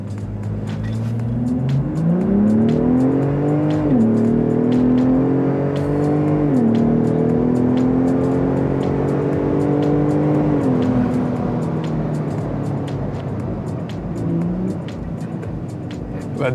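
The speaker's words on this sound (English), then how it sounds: "I do want to try a 0 to 60 in this thing to see how it compares to stock" A Steeda F-150 Raptor Edition pickup truck in sport mode and two-wheel high launches hard from a standstill, its engine rising loudly through the gears with two clear upshifts, a steady close roar throughout.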